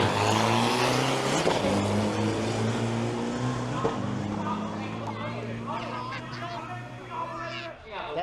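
Isuzu turbo diesel pickup trucks with 3-liter engines launch in a drag race at Thailand's Isuzu Race Spirit final round, a loud roar of engines fading gradually into the distance as a voice talks over it.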